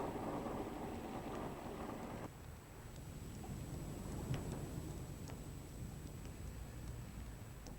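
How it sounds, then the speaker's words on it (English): A heavy rain shower falls on a cool day at Bolton Abbey during the 1995 Steam Car Touring Rally, a dense steady hiss from start to finish, with scattered faint ticks and taps on top. "this brief heavy shower is a bit of a disappointment"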